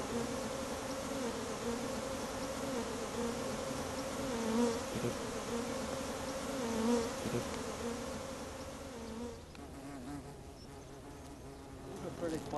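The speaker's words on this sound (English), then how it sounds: "Pretty quiet bees, you see." A hive of honeybees hums in a steady, soft, continuous drone, the colony sounding calm and quiet throughout, with the buzz thinning slightly toward the end.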